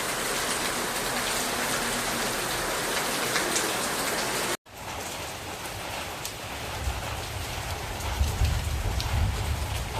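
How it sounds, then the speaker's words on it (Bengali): Heavy rain pours down in a dense, steady wash close by, with a brief dropout midway, then continuing with deeper rumbling gusts toward the end; no voices. "প্রচণ্ড জোরে বৃষ্টি হচ্ছে"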